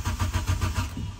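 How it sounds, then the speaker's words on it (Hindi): A 2010 Japanese-made Nissan Sunny cranks without firing, its starter churning in a steady rapid rhythm of about six close, even pulses that trail off. "ये देखें जी, करंट कर रही है, स्टार्ट नहीं हो रही"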